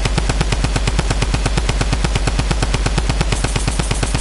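Rapid automatic gunfire in Fortnite, a loud, continuous, evenly spaced stream of shots that fills the whole stretch without pause.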